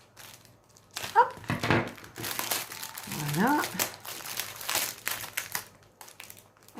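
Packaging paper from an AliExpress parcel crinkles and tears in a few rough bursts, close up, while someone speaks French over it.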